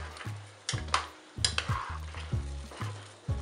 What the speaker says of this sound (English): And now we're just gonna mix that in.